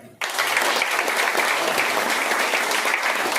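Sudden burst of loud applause from a crowd, starting abruptly and holding steady, dense clapping throughout.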